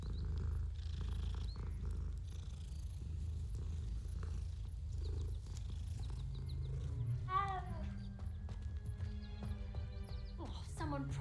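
A cat purrs softly and continuously in a wizarding video game, a low rumbling texture beneath game music and faint chiming effects.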